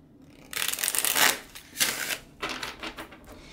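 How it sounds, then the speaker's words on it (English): A stiff, worn tarot deck gets shuffled in close-up: three riffling bursts, the first long and dense, then two shorter ones, each a crisp rapid flutter of cards. "So it's hard to shuffle like that, a riffle shuffle."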